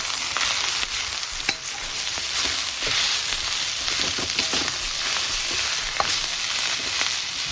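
Rice stir-frying with curry prawns in a hot pan, heard as a loud, constant close sizzle with scattered scraping and tossing strokes throughout, and no voices.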